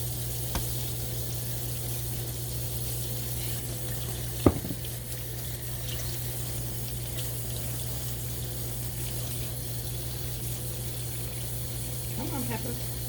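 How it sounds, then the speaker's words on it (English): Hot water runs steadily from a kitchen tap into a sink as a constant close hiss, broken by one sharp knock and a brief clatter near the end. "Get some hot water running because I am handling chicken now."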